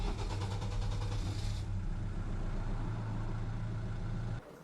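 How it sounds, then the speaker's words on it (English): A Land Rover Defender Puma engine starts and runs with a steady, close mechanical drone, its tone shifting after about a second and a half before cutting out abruptly near the end. "the fact that it now starts when I turn the key without cranking and cranking forever is a relatively new repair"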